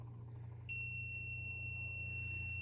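A steady high-pitched warning tone from a Meyers Manx VW dune buggy dash with the ignition off, starting abruptly and holding continuously over a low engine-like hum.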